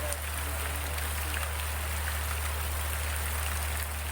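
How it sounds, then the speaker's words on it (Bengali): Heavy rain pours down on an open field, making a dense, even hiss that stays close and constant throughout with no breaks. "বৃষ্টি ভিডিও গাইস, ভালো লাগে ওই জন্য গাইস বৃষ্টি ভিডিও করছি গাইস"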